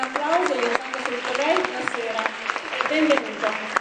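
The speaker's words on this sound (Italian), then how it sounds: "E lo salutiamo con un applauso." An audience claps to welcome a municipal culture official at an event for coma research awareness, a short burst of applause heard under and around a voice speaking over it.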